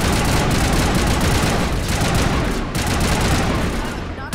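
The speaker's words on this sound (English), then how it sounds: "It's some sort of a... like a turret, maybe." Rapid, heavy turret gunfire rattles in the video game Mass Effect Legendary, a loud, continuous barrage of bursts and impacts with brief dips, close and dominant, with only faint talk beneath.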